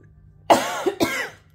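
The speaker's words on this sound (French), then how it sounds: "Je peux pas faire sans tousser." A single person coughs twice in quick succession, close and loud, harsh bursts after a moment of quiet.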